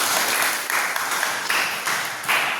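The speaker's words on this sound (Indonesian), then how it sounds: "Beri tepuk tangan dulu Agil." A class of students applauds a classmate after an answer in a lesson, bursts of clapping that swell and fade in short waves, moderately loud in a room.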